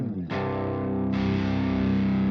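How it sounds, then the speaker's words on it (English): An electric guitar played through an amp plugin with an overdrive pedal in front rings out in sustained, distorted chords, with a second chord struck about a second in. "It has also a pedal for overdrive in front of the amp."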